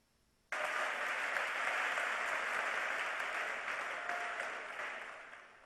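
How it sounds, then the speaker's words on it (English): Sudden burst of audience applause at a management conference as a guest speaker is welcomed, dense and even clapping from a large hall that holds steady and slowly tapers, with no voices over it. "Let us accord a warm welcome with a loud applause to him."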